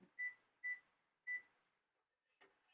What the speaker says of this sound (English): All right, let's turn our timer on.